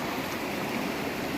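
The Seti river flows in a steady, broadband rush of water, close and continuous throughout, with no voices.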